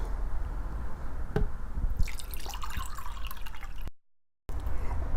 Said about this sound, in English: So first step is to pour 3 cups of water in the pan.